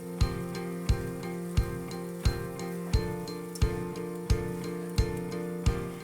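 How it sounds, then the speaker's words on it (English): A mixture in a hot buttered pan stirred at full heat, with a utensil knocking the pan in a steady clinking rhythm about every two-thirds of a second over a soft sizzle. "Full temperature and keep mixing."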